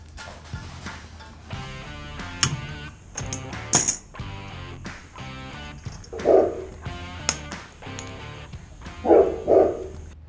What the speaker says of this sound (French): Vous entendez le chien qui gueule?